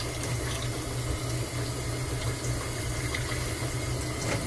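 Running tap water pours over a freshly cleaned bluegill being rinsed after gutting, a steady close splashing rush that fills the whole stretch with no talk.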